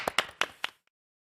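Brief scattered handclaps from a small studio audience on a Korean morning TV show, four or five sharp claps in quick succession that stop abruptly into silence.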